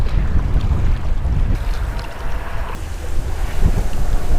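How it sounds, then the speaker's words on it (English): Strong wind roars across open water on a blustery fishing day, a steady loud rush with microphone buffeting and gusts swelling throughout, no talking. "Wind, and more wind."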